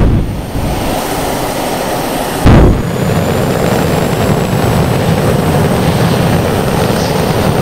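Engine drone of an amphibious aircraft in flight in the Stormworks: Build and Rescue game, a steady loud hum throughout with a brief bump near the start, alone with no talking.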